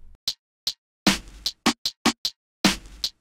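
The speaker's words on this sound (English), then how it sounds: "And then I experimented with some hi-hat patterns." Simple quarter-note hi-hat pattern in a soul hip-hop beat: short, crisp ticks falling at an even pulse, mixed with heavier snare hits, dry and close with no voices.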